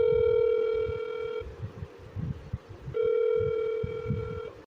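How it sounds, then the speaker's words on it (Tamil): A phone placing a call gives two long, steady ringback tones separated by a short pause, clear and alone over a faint noisy background. "சக்திக்கு போனை போடுடா."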